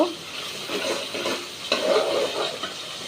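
Spices sautéing in a pan for a Bengali home lunch: a bubbling sizzle close by, broken by repeated stirring scrapes of a spatula, with no speech.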